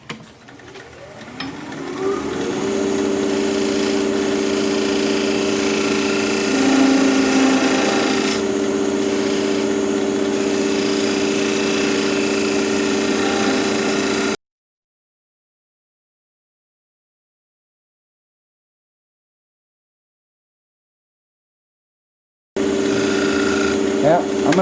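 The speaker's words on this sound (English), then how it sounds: "I'm gonna sharpen up again." A woodturning tool is pressed against a grinder while a piece of Japanese quilted maple waits to be turned. A steady, loud grinding whine builds after a quiet start and cuts out abruptly, then returns near the end.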